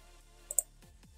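A search being typed on a computer keyboard comes through as a couple of faint, quick key clicks over a low background hum.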